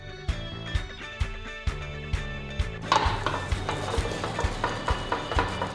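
A spoon scrapes and knocks against a pan while loose corn-based polvoron is stirred and stuck bits are lifted from the bottom, producing regular knocks that turn into a denser, continuous scraping.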